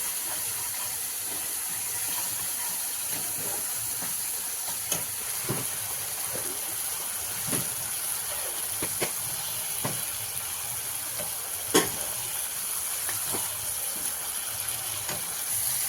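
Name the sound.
frying spice masala in pan for shahi paneer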